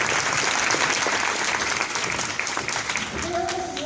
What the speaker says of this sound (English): let's give one more round of applause for these wonderful people.